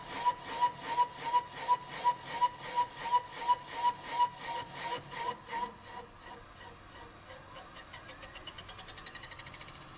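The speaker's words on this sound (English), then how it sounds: "Now going through and cutting the intake seats" Serdi 4.5 valve seat machine cutting intake valve seats on a Ford FE cylinder head: steady rhythmic scraping strokes at close range, slowing and fading midway, then a quicker, lighter chatter toward the end, with no talking.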